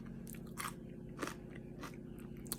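Close, crisp crunching bites into a firm, juicy fermented hot pepper, a few distinct crunches over a steady low background hum.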